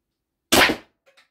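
A single sharp, percussive shot from the right barrel of an Umarex HDS 68 T4E .68 caliber air gun, abrupt and close, followed by a couple of faint metallic ticks.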